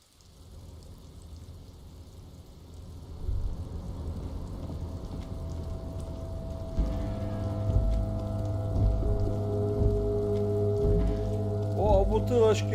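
Steady rain ambience from the video game Disco Elysium, a continuous hiss of falling rain that grows denser midway, with low tonal game music swelling underneath and brief voice-like sounds near the end.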